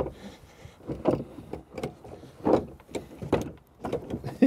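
An old piece of flooring is pried and lifted out of an old boat in a workshop, giving irregular close knocks, creaks and scraping thuds of shifting wood, moderately quiet with no talk.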